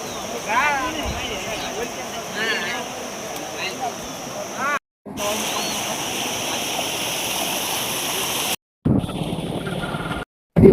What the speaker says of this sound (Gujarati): આ બાજુ જો ફલકુ નદી ફૂલ જાય છે